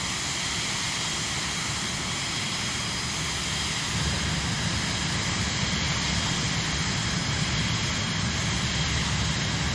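The engine of a Cirrus Vision Jet G2 in Microsoft Flight Simulator gives a steady, loud jet roar and whine that thickens partway through, continuous and alone for about ten seconds.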